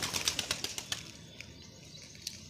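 Domestic pigeons taking off from a rooftop, a quick run of loud, close wing flaps in a rapid rhythm for about a second, then fading into faint distant flutters.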